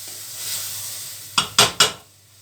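Semolina toasted for halva is stirred in a pan with three sharp scraping strokes in quick succession after a quiet stretch of faint background hum, close and fairly loud, with no talking.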